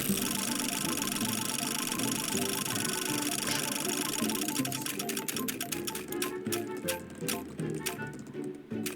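A prize wheel spins in the video game Stumble Guys: rapid mechanical ticking over game music gradually slows, with the clicks spreading apart toward the end as the wheel winds down.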